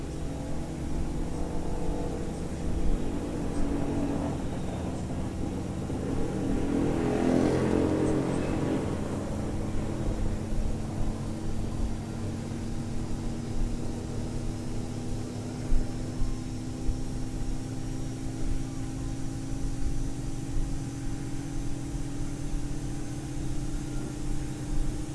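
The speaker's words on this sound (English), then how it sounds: "Starting engine number 2." Engine number 2 of a Toliss A321 spools up in the X-Plane 12 flight simulator, a steady broadband jet roar with a slowly rising whine that holds loud and continuous throughout, without talking.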